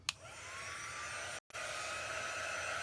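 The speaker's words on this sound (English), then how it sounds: "we're going to help that process along a little bit with my craft dryer" A steady, loud blowing whir from a small handheld heat dryer runs continuously, with a brief cutout partway through before it resumes.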